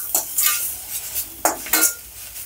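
A spoon stirs chilli powder, sambar powder and garam masala frying in a pan, giving a few scraping strokes and light metallic clinks over a soft sizzle, close and irregular.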